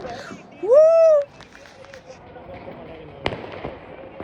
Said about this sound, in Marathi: हे देखो फटाके भाई.